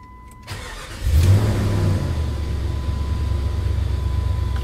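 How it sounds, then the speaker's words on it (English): Jeep Grand Cherokee WJ engine starting with the ignition key: a short cranking whir, then the engine catches with a loud low surge and settles into a steady, rumbling idle, heard up close from inside the car. "Turn the ignition on."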